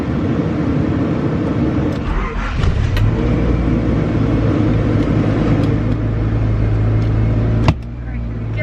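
Honda CRX Si car with a manual clutch driving and accelerating, a loud steady engine hum with a few clicks and thumps from inside the cabin.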